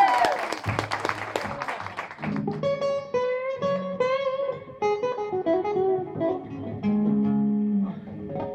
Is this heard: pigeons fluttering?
no